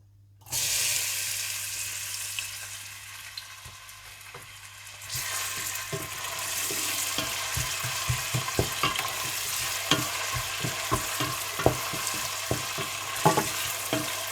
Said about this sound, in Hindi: सब्ज़ इलायची और प्याज डालकर अच्छे से फ्राई कर लें।